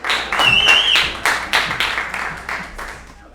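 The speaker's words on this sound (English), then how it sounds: "Give yourselves a round of applause." Bingo players at the Westside Story Club clap for themselves, a loose group applause with distinct claps and a few whoops over it, gradually tapering off.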